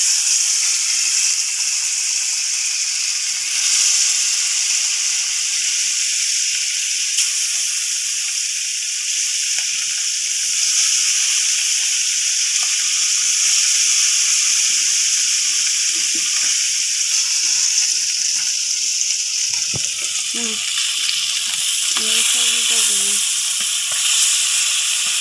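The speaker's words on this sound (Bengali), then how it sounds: "মাছ ভাজা হয়ে গেছে" Koi fish fry in hot oil, producing a loud, dense, unbroken sizzle and hiss, with a few faint muffled knocks near the end.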